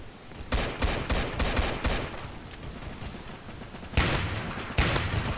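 Rapid gunfire in a video game, a cluster of sharp shots early on followed by a sustained burst of firing and two louder blasts near the end, with no talk over it.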